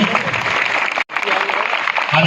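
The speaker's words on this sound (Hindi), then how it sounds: "तालियां" Audience applause at a gathering marking National Unity Day, a dense wash of clapping that breaks off briefly in the middle, then resumes just as full.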